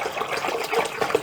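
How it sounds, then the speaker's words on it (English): Well water pouring into a pail while mead is being made from bread yeast and dried orange or lemon peel, a continuous close splashing gush with no talk over it. "Now I can add my water."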